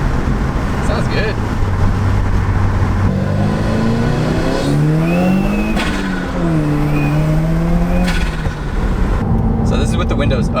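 Heard from inside with the windows up, a 2017 Subaru WRX fitted with an Invidia N1 catback exhaust revs and climbs through gears, a constant loud drone with rising pitch sweeps and brief shifts.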